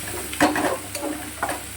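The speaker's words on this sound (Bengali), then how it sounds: "তো চলো পেঁয়াজটা আগে লাল লাল করে ভেজে নিই" Onions frying in a pan until reddish brown for a pressure-cooker potato curry, a steady close sizzle broken by a few scraping stirs.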